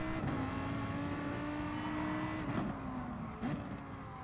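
A Gr.3 race car in Gran Turismo Sport holds a steady high engine drone while driving defensively at Autodromo de Interlagos, with two short pitch dips near the end as it shifts or lifts, loud and close.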